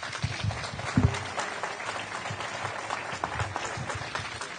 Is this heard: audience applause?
yes